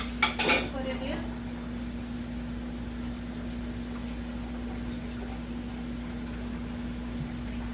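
Dishes and cutlery clatter as a kitchen dishwasher is loaded, with a brief burst of clinks near the start, then only a steady low appliance hum.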